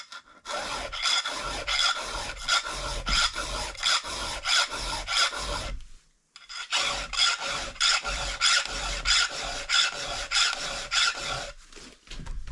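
A hand file sharpens a chainsaw chain in steady, rhythmic rasping strokes, close and fairly loud. It runs as two series of about a dozen strokes each, separated by a brief pause.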